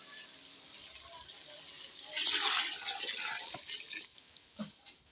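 Tamarind water is poured into a cooking pot, a soft splashing gush that swells for a couple of seconds and trails off into small drips.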